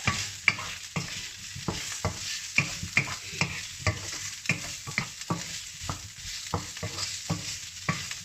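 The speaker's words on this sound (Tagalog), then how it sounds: "lagay natin ang ating bawang at sibuyas ang ganda niya yung walang mantika" Garlic and onion sauté in a dry pan with no oil for pinakbet, with a steady faint sizzle broken by repeated sharp scrapes and clacks of stirring at an uneven rhythm.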